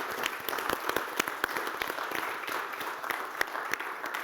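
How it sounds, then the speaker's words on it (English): An audience at a harbour craft safety forum applauds its panelists, steady crowd clapping with distinct sharp individual claps popping out across the whole stretch, moderately loud. "Please give a round of applause to the panelists."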